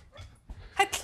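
A dog gives a couple of short, sharp barks close by, separated by brief quiet.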